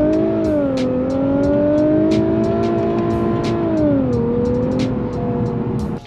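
A twin-turbo V6 car engine revs hard and steadily under acceleration, a loud sustained tone rising in pitch with a brief shift partway through.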